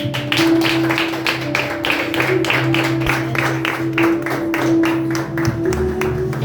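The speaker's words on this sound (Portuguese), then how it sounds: "Glória ao Senhor, com palmas bem fortes." A church congregation claps loudly in a fast, steady rhythm, with a sustained musical tone and hum from the service's sound system underneath.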